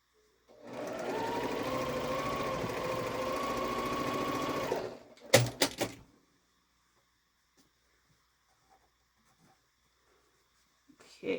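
A sewing machine stitches over a seam in a Christmas quilt block, running steadily for about four seconds, followed by a few sharp handling clicks and then near silence.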